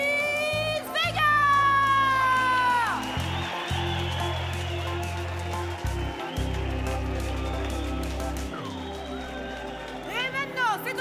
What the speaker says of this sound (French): Je veux un tonnerre d'applaudissements pour Chris Vega.